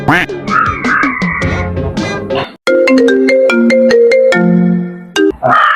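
A phone ringtone plays for an outgoing call, a loud melodic tune of steady tonal notes, preceded by a brief busier musical passage and a short gap, with no talk over it.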